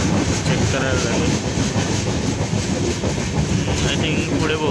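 The Mandavi Express runs on the Konkan Railway with a dense, steady rumble and clickety-clack of wheels on track, heard close from inside the train, with faint voices in the background.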